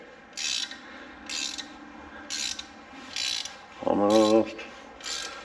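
A spring compressor tool squeezes a new, stiff GM car door spring, giving repeated bursts of ratcheting clicks at a steady rhythm, with one louder metallic strain and rattle near the end, close and fairly loud.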